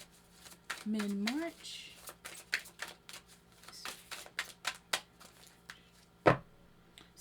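Oracle cards shuffled and handled at close range in irregular soft flicks and taps, interrupted by someone speaking briefly, with one sharp louder card snap near the end.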